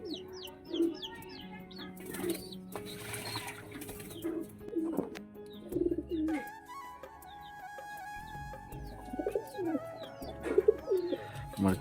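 Pigeons coo repeatedly at close range in a loft, soft rolling calls overlapping one another, with occasional wing flaps and a few chirps mixed in.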